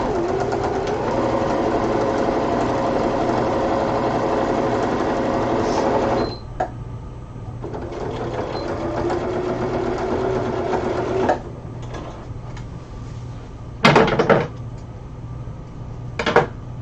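A sewing machine stitches the shoulder seams of a Freya cosplay costume in a long steady whirring run, stops, then sews a second shorter stretch, followed by a few sharp clicks and handling knocks.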